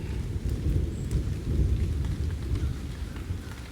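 Low thunder rolls and rumbles through steady rain at a campsite in Red River Gorge, with a continuous heavy patter and deep swells that peak midway, no voices.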